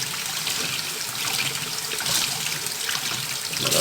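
Germinated seeds get rinsed under cold running water, a steady splashing trickle with shifting liquid gurgles, close and continuous with no speech.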